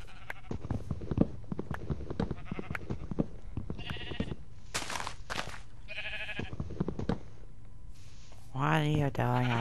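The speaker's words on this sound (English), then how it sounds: "What are you doing over here, you spooky sheep?" Sheep bleat in the Minecraft video game, a few short bleats scattered among quick footstep-like clicks, with a louder bleat near the end, while a person talks over the game sounds.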